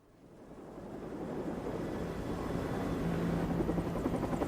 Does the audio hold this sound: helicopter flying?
yes